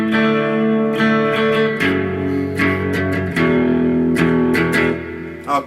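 Clean electric guitar chords are strummed at a moderate pace with a few changes, each strum ringing briefly into the next, played solo.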